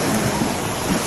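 A strong river current churns in a dense, steady rush near the microphone, with low wind buffeting beneath it and no voices.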